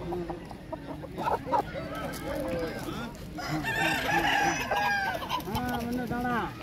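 Aseel roosters at a village market crow repeatedly and cluck, several birds calling close by in overlapping bursts, while people haggle in conversation underneath.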